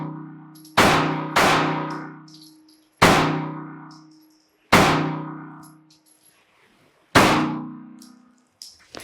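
A Kahr CW9 pistol fires five sharp, loud shots spaced a second or two apart, each with a long ringing decay.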